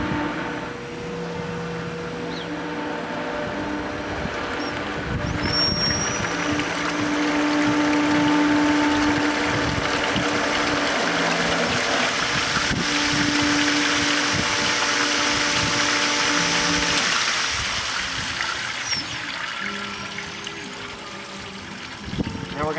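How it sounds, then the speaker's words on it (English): A pool filter pump runs with a steady mechanical hum while water rushes and sprays out, a continuous loud churning wash that holds for the whole stretch. "What I'm actually going to do now is just turn the pump on"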